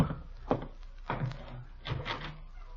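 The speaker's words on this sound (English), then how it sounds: "Somebody at the door, Gildy." A door-opening sound effect from a 1945 Great Gildersleeve radio comedy: three soft, hollow wooden thunks spaced about half a second apart, fairly close, with no talking.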